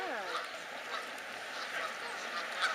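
A white goose honks among ducks on water, giving a few nasal, rising calls early on, with quieter quacks and outdoor ambience after; people chat faintly in the background.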